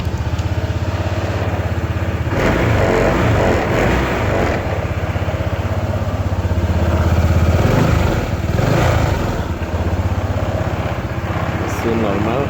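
A 2022 Honda PCX 160 motorcycle engine runs at idle with a couple of throttle blips, loud and close, its revs swelling in the middle before settling back to a steady idle.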